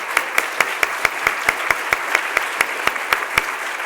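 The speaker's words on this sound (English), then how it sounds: "Can we just give her one more round of applause?" Steady applause from a luncheon audience, a full wash of clapping with one nearby clapper's sharp, regular claps standing out on top in an even beat.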